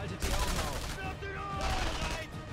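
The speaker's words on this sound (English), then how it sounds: "Jesus, I shot him 4 times." Gunfire rattles in the Sniper Elite V2 video game, with rapid overlapping shots in a co-op campaign level at the Mittelwerk facility. The bursts sit moderately loud under a voice, who is talking throughout.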